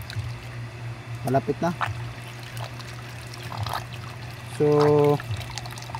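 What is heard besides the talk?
water flowing out of a water pump hose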